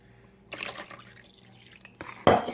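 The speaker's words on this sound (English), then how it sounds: "I'm adding in 1 cup of water." Water is poured into chocolate cake batter, giving a soft trickle followed by a sharper splashing burst at the end, close and fairly quiet.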